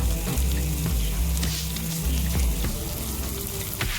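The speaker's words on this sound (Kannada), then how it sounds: "ಹಾಕ್ಬಿಟ್ಟು ಒಂದು ಎರಡು ನಿಮಿಷ ಇದನ್ನ ಫ್ರೈ ಮಾಡ್ಕೊಳ್ಳೋಣ" Crab pieces coated in masala paste fry in a pan, giving a loud, continuous sizzle with low bubbling underneath and a few clinks of a spoon against the pan, all close up and without speech.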